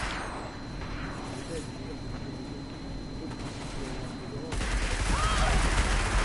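Gunfire in the PS4 game Destiny, steady rapid shots peppering a vehicle, a dense continuous volley under game noise that grows louder and harsher toward the end.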